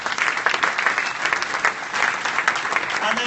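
An audience applauds at a Newcastle United Foundation awards dinner with dense, steady clapping from a sizable room that holds at an even loudness throughout.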